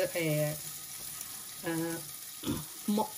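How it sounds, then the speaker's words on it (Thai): Raclette cheese grills on a hot plate with a steady, close sizzle and crackle running throughout, while voices talk intermittently over it. "เขาก็เอาชีสนี่ใส่ แล้วก็ย่างไป ให้มันสุกก่อน"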